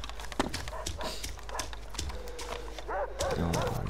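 A video game dog barks and growls near Yanov station in quick, rough bursts, mixed with clattering footsteps and gameplay noise.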